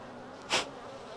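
A single honeybee zips past close by during a hive frame inspection, a brief loud buzz rising and fading within half a second over a quiet background.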